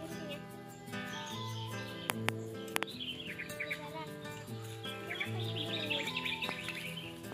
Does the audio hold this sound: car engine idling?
no